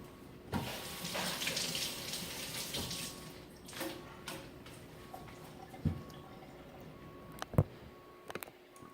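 Running tap water over a small bunch of green onions being washed in a kitchen sink, a steady splashing stream with a few sharper drips and knocks toward the end, fairly close and with no talking.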